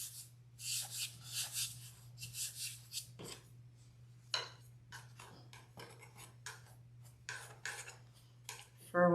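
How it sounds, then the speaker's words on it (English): A wooden dowel rubs and scratches against faux fur on a wreath, quiet bursts of brushing and scraping that come in irregular strokes over a faint steady hum. "So I'm just using my dowel just to kind of move it around, get it in place, flip it over"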